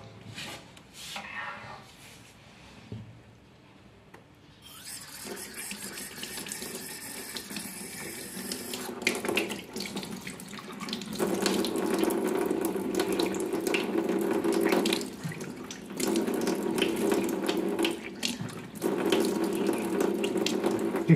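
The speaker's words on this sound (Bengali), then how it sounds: "জল ঘাটতে ভীষণ ভালোবাসে, এই ঠান্ডার মধ্যে পর্যন্ত জল ঘাটবে" Tap water runs into a basin while a child splashes and plays in it on a cold day, starting with scattered faint splashes, then a steady gushing stream with intermittent louder spatters and brief pauses, no talking.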